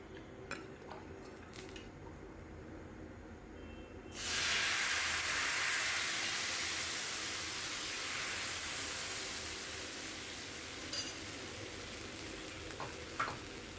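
Rice batter for Konkan ghavan poured onto a very hot iron griddle bursts into a loud hissing sizzle that holds steady, then slowly eases, with faint clinks of utensils before and after.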